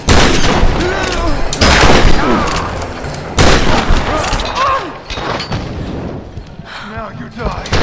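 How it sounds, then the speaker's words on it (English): Repeated gunfire and booming shots in the Tomb Raider video game, a dense loud volley through the first few seconds, then quieter scattered shots, with a voice talking over much of it. "Oh god, I'm shooting everything but him."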